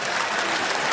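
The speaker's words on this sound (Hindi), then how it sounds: "एक बार तालियां बजा दीजिए" An audience at a Hindi comic poetry gathering claps in a dense, steady burst of applause that lasts the whole second, with no voices over it.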